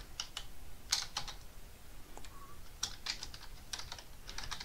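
Computer keyboard typing while a command is entered into the rc.local file on a CentOS cloud instance: irregular clusters of crisp, close keystrokes over a steady background hiss, with no speech.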